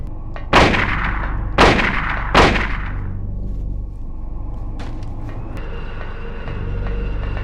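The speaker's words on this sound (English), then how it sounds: "2 point-blank shotgun shells directly to the chest" Shotgun fired point-blank in the Silent Hill video game: three loud, sharp blasts in quick succession, each with a decaying tail, followed by quieter game ambience.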